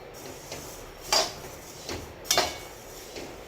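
Coriander seeds dry-roasting in a pan: intermittent metallic scrapes and rattles as the seeds are stirred and shuffled, with a few distinct clinks spaced about a second apart, fairly quiet and with no voices.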